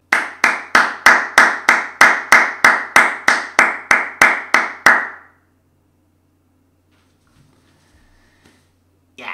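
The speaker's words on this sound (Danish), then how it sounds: "vi skal starte ud med at uddele en klapsalve" About sixteen crisp hand claps in a steady, even rhythm, loud and close, then quiet.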